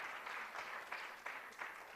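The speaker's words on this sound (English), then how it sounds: "A big round of applause, please, to Professor" Conference audience at a national legal aid gathering on access to justice applauds steadily in a hall, a dense wash of many hands clapping with a few louder swells, sustained throughout without speech.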